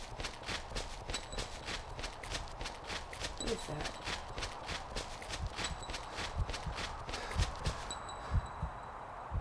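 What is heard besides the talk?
footsteps in Weeping Angels horror video game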